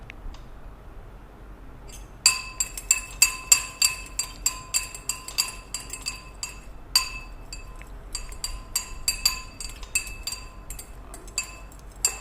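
A spoon clinks sharply and repeatedly against a glass or bowl while sugar, lemon juice and chopped green chilies are mixed for a carrot lime chili salad, beginning after a quiet start and continuing in irregular bright taps, close and fairly loud.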